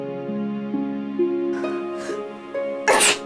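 A single sharp sneeze bursts out near the end, following a stretch of sustained tonal background sound.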